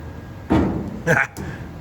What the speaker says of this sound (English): Door opens, and then door goes up.